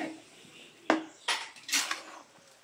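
A large ladle stirs a pot of bukayo, a coconut candy cooked with sugar and milk, giving three or four scraping clanks against the metal over a quiet background.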